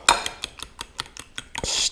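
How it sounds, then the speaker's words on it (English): A metal utensil clinks and scrapes rhythmically against a bowl while vigorously stirring cream cheese and egg batter with garlic powder and baking powder, about eight quick close taps, with no voices. "stir it vigorously for a couple minutes"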